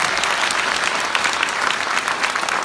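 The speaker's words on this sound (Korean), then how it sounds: "우리 모두를 환영하는 뜨거운 박수를 부탁드립니다" A crowd applauds warmly, with dense, steady clapping that holds the whole time without letup.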